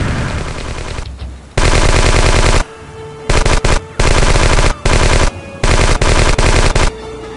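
Loud bursts of machine gun fire from the video game Last Dance, several long sustained volleys broken by short pauses.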